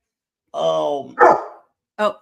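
A pet dog on a radio show lets out a drawn-out whining bark followed by two shorter, sharp barks, loud and close to the microphone.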